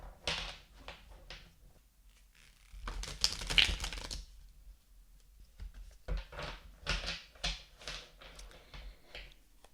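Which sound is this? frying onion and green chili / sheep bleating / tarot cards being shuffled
tarot cards being shuffled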